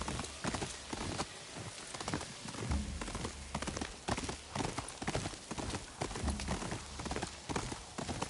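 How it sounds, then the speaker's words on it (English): Rhythmic clip-clop of horse hooves galloping in the PS5 video game Ghost of Yotei, repeated thudding beats over a busy background with drums playing, and a faint whinny. "They're on the horses over there."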